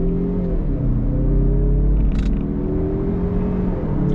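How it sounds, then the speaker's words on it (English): A 2021 Mazda CX-30 Turbo AWD heard from inside the cabin as it accelerates on throttle, a steady low engine drone with rising tone and road rumble, moderately loud and continuous. "I also like the sound in the cabin, nothing too obnoxious, just the right amount of tone to let you know that you're on throttle"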